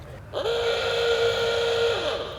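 A loud, steady hooter signalling a weigh-in at the Fish'O'Mania 2018 fishing match blares for about a second and a half, then cuts off, over a low background rumble.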